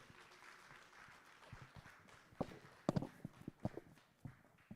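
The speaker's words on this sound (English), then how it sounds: "A round of applause to them," Scattered applause from a conference audience, starting as a soft patter and then breaking into sharper, uneven claps that stay fairly sparse and trail off toward the end.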